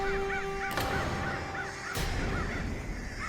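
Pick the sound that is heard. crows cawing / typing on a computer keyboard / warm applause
crows cawing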